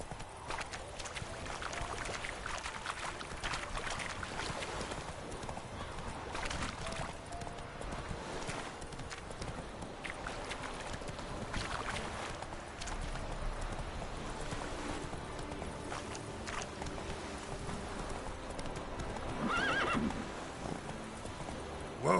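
Galloping horse in The Witcher 3 game, hooves clip-clopping in a steady run with a neigh or whinny, set against dense game ambience and music throughout.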